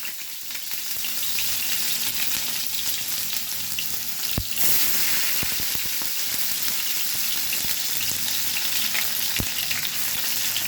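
Chopped onions fry in hot oil in a kadai, a dense continuous sizzle with a couple of sharp clinks of a utensil against the pan, close and fairly loud.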